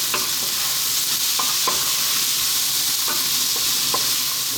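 Broccoli and pork belly seasoned with Chinese five-spice stir-frying in a hot pan, a steady sizzle with repeated clinks and scrapes of a utensil stirring, no talking.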